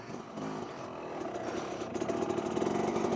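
A Yamaha YZ250 two-stroke dirt bike with a big bore kit labours uphill in the distance, its mid-pitched engine drone steady and slowly growing louder as it climbs.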